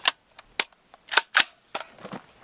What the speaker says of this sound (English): So I'm gonna shoot past the camera and see what that does.